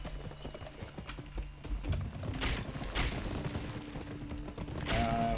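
Horse hooves clip-clop in the Western video game GUN, steady rhythmic footfalls at moderate volume mixed with mechanical game sounds and soft background music.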